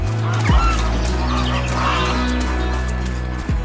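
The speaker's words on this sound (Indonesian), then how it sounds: "angsa kecil bermain dengan riang" Small geese swimming on a lake honk in steady, loud, close calls, a continuous stream of nasal honks with two brief dips.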